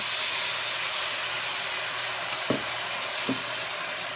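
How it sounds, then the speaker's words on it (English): Liquid poured onto toasted basmati rice in a hot pot, giving a steady loud sizzle and steamy hiss throughout, with a couple of brief knocks of a utensil, no talk. "I'm going to add this to my toasted, little bit of steam, my toasted basmati."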